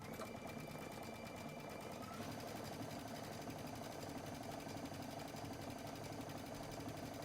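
Sewing machine with a G-foot running at top speed while finishing a fabric edge, a steady fast whirring drone close by and unbroken throughout, with no talk.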